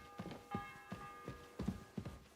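In the video game Kingdom Come Deliverance 2, a bell rings repeatedly in a steady, evenly spaced pattern of about six strikes, moderately distant and soft, each with a sustained ringing tail.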